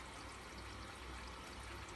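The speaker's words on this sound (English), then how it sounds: "you'll hear water coming into the brake tank" Water runs steadily into a dishwasher break tank through its fill valve, a constant rushing, pouring wash of sound that stays even and unbroken throughout, quiet and with no talking.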